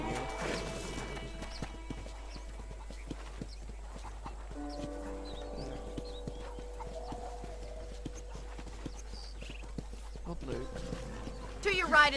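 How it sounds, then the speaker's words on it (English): In Red Dead Redemption, a ridden horse's hooves clip-clop steadily at walking pace, soft and continuous under game ambience and brief voices. "Okay, let's see if you can still ride a horse."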